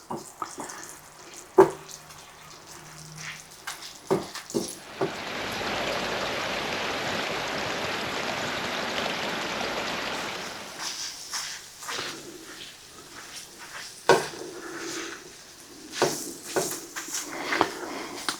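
Grease being drained from cooked meat in a pot, a steady pouring, running-liquid wash lasting several seconds, framed by clanks, scrapes and handling noises before and after.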